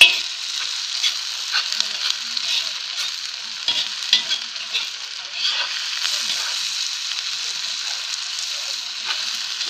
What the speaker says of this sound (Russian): будем жарить на другом масле мясо обжаривать